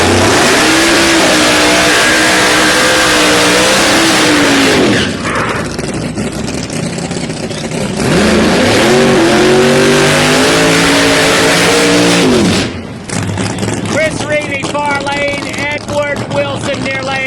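Pro Nitrous drag race cars at a PDRA Drag Wars event at Galot Motorsports Park roar down the strip, two loud revving passes with rising engine pitch and a brief lull between them, ending under crowd and background noise.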